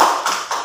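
Children in a primary classroom clap their hands together three times in a quick, even rhythm, loud and close.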